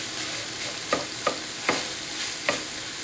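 Onions and garlic fry in a pan under a steady sizzle while a utensil scrapes and stirs, with about five sharp clinks spaced through the scene, fairly close with no talking.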